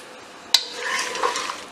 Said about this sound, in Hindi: इन तमाम चीजों को अच्छे तरीके से मिक्स करेंगे।